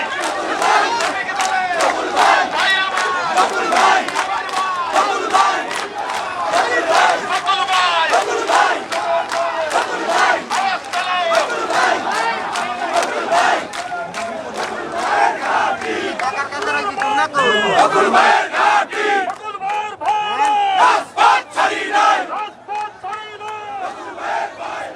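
A large crowd at a rally on 1 May chants slogans loudly and continuously in rhythmic call-and-response, many voices shouting together with steady pulsing beats throughout.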